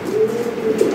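A toy Lahore pigeon coos steadily and close by for about a second, a soft, low, continuous rolling call that rises slightly near the end, with no talking.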